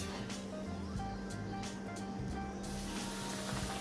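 Pork chops frying in canola oil in a cast iron skillet, a steady faint sizzling hiss running continuously with a soft low hum beneath it.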